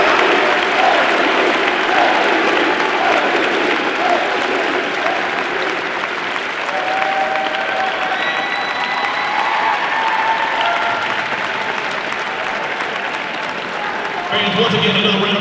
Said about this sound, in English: once again another round of applause for your 2020 Boys All-A Classic Tournament team